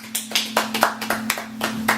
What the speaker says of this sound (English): let's give a round of applause to Noah.